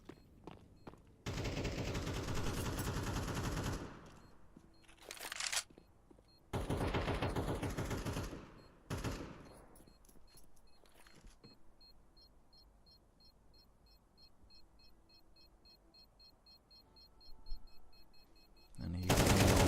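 Automatic gunfire in a Counter-Strike-style pro league match, with two long loud bursts of rapid shots, scattered single shots and quieter stretches, and a final burst at the end.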